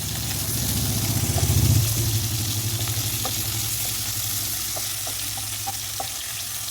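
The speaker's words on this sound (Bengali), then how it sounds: "টুকরো করা টমেটোটা একটু তেলের উপর ভেজে তুলে রাখবো আলাদা করে" Tomato pieces frying in oil in a pan, a steady close sizzle with scattered small pops over a low, constant hum, without any talking.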